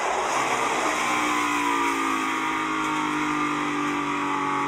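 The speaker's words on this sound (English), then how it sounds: "It's a drag race to the checkered flag." NASCAR Cup Series stock cars roar toward the checkered flag at the finish of a race, a dense, sustained engine drone at full throttle with rising pitch and crowd wash behind it.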